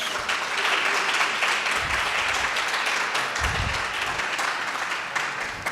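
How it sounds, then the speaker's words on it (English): An audience at the Harn Museum in Florida gives a sustained round of applause ahead of a performance, a broad even wash of clapping filling the room with a couple of low thumps beneath. "Let's give the Harn a round of applause."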